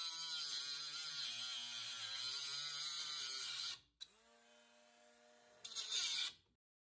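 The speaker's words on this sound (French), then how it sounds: "je dévisse mon contre-écrou" A power tool whines continuously at close range while a lock nut on a Clio 2 steering linkage is worked loose, then stops. A lower motor hum follows, and a short final burst of the tool ends it.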